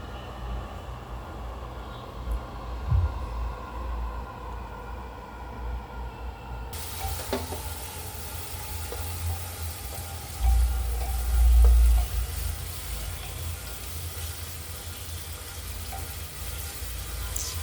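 Onions with salt frying in a pan for a garlic beef dish: a steady low sizzle runs throughout, with a faint clink near the start and a few soft knocks of stirring later on, no talking.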